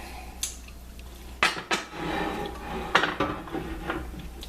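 A skillet clanks and scrapes on a stovetop before heating, with several sharp metallic knocks and a few softer rattles, close by and fairly quiet with no one speaking.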